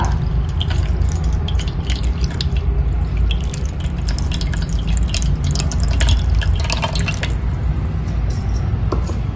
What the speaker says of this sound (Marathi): पाण्याने अभिषेक घालून घेतला